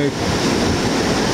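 Waist-to-chest high surf breaking at Sendai Shinko port on a cold onshore-wind day: a dense, continuous roar of waves, loud and close, with wind buffeting the microphone.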